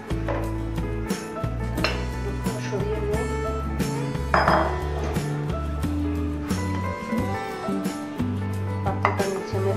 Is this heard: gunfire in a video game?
no